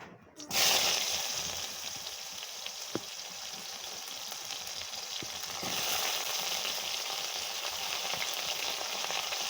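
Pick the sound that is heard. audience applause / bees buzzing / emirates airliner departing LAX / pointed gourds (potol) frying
pointed gourds (potol) frying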